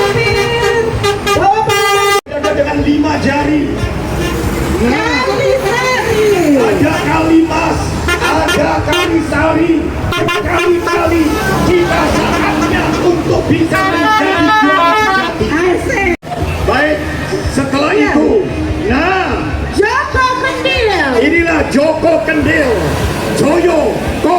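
Dozens of homecoming (mudik) buses drive past on a road during the 2026 holiday exodus, horns honking now and then beneath nearly continuous talk from a commentator.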